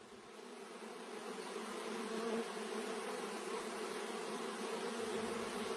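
Honeybees hum steadily inside a queen-rearing hive as they build royal cells, a dense, continuous buzzing swarm that stays even and close throughout with no other sounds.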